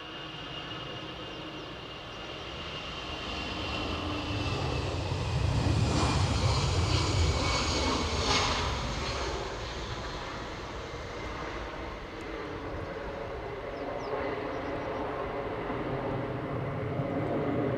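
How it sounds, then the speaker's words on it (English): An Aer Lingus Airbus A320 takes off from Edinburgh Airport, its jet engines a broad, steady roar that swells to a peak midway and then holds as a sustained rumble into the distance, with no talk. "Aer Lingus off to Dublin with an A320."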